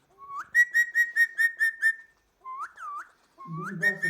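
A pet parrot whistles a quick run of rising, repeated notes, pauses, then gives a couple of swooping whistles and another burst with a harsher chattery edge, loud and close.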